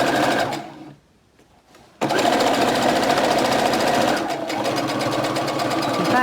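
A sewing machine stitches a seam down to about a quarter inch from the fabric edge. Its steady, fast mechanical whir is close and loud and stops for a second before picking up again.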